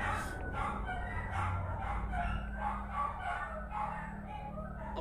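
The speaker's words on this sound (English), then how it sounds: "My dogs are going crazy." Several excited dogs bark repeatedly in the background, fairly faint and muffled beneath a steady low hum, with fowl-like yips mixed in.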